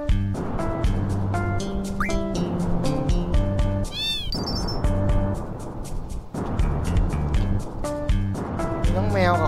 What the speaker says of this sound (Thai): น้องแมวกับคนหนึ่งคน